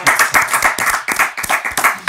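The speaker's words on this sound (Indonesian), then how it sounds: "Tepuk tangan untuk saya." An audience claps its hands in a loud, close, steady run of sharp claps with a loose, repeating rhythm.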